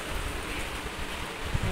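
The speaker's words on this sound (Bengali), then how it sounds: "বাইরে বৃষ্টি হচ্ছে, ঝমঝম করে বৃষ্টি পড়ছে বাইরে।" Heavy rain pouring down outside, heard from indoors as a steady, dense hiss that holds at an even level throughout, with a slight swell near the end.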